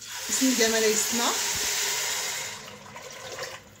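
Liquid is poured into a pot of rice that has been sautéed in butter, setting off a loud hissing sizzle that stays steady and then gradually softens; a voice can be heard briefly underneath.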